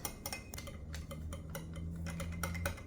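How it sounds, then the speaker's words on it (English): Spoon clinking steadily against a bowl while honey and dry yeast are stirred into warm milk, quick repeated light taps in a regular rhythm over a low hum, close by. "now I will put my honey in and dissolve my yeast"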